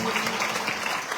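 An audience at a spiritual discourse in Rishikesh claps in a dense, continuous wash of applause that fills the whole brief moment.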